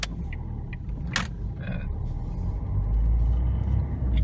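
A car in first gear rolls down a long hill as a low, steady engine drone that swells slightly louder toward the end, with a few brief clicks and a short hiss early on.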